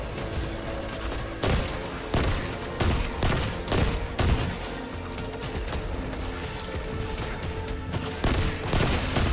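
Rapid gunfire in the sci-fi shooter Destiny 2, repeated sharp loud shots in irregular bursts over a steady backdrop of game sound.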